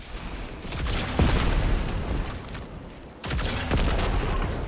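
Rocket launcher fire and explosions in the Destiny 2 shooter, played in a Platinum Empty Tank Lost Sector: a sharp blast around one second into a dense roar of gunfire and booms, cut off briefly before a second loud burst, with no talk.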